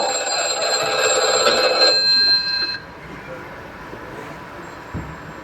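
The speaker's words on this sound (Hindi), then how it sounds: "फोन का घंटी बजता है" A telephone bell rings loudly for almost three seconds, a bright trilling tone, then stops, leaving quiet room noise with a small bump.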